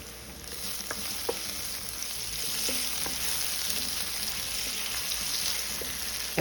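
Garlic sizzles in a hot pan for a Brazilian moqueca seafood stew, a steady, close frying hiss with occasional faint taps of stirring.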